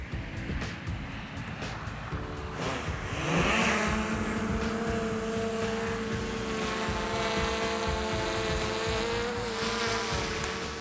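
A survey drone lifts off from a table, its rotors rising into a steady, loud, high whine that holds once airborne, with outdoor noise underneath.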